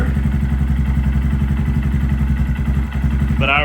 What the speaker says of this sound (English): I'm gonna let that idle for a bit before we give it a few